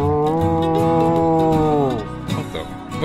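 A cartoon cow in a barn lets out a long, loud, drawn-out moo that holds steady and then falls off, followed by a brief rough tail of sound.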